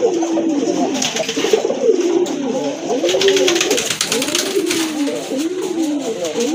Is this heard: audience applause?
no